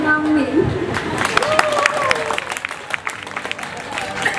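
Crowd applause at a wedding reception, a steady patter of many hands clapping that runs throughout beneath a voice speaking over it.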